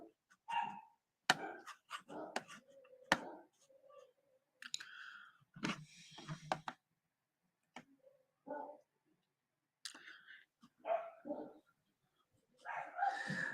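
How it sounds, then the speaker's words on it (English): An old blind dog barks in scattered sharp bursts, some close and some farther off, separated by pauses and mixed with clicking sounds. "Sorry, my dog's barking."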